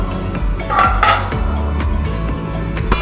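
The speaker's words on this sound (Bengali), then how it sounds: "ঢাকনাটা সরিয়ে নেব।" A lid clatters and clinks off a metal pan of black mustard seeds frying and popping in hot oil, with a steady sizzle running underneath and no voices.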